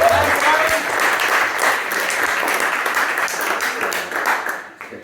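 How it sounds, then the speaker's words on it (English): An audience at a poetry event gives a lively round of applause, clapping dense and steady for several seconds before thinning out and stopping. "can you just give a massive round of applause for Zara and Johnny?"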